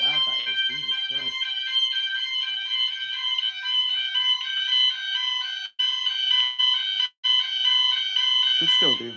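Fire alarm sounder driven by a repaired Vigilon fire alarm panel, blaring a loud, steady, piercing electronic tone for several seconds with two brief dropouts, and a voice speaking briefly at the start and end.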